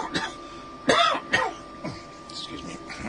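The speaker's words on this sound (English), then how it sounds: "Excuse me. Quick cough." A couple of short, sharp coughs close to the mic, with brief throat noises between them against a faint steady hum.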